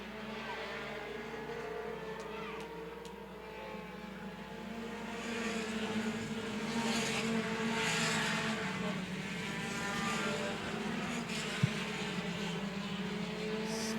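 Mini stock race cars at Angola Motorsport Speedway running a 30-lap feature, several engines droning together at a steady distance and swelling slightly as the pack passes, with no talking.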